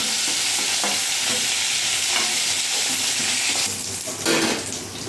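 Rui fish frying in a pan for a Bengali fish curry, a steady loud sizzle throughout with occasional scraping and clinks as the pieces are turned, no talking.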